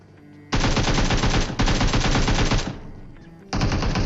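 Automatic gunfire in the PUBG Mobile video game: loud, rapid-fire bursts of closely spaced shots, two long sprays back to back and then a shorter burst after a brief pause.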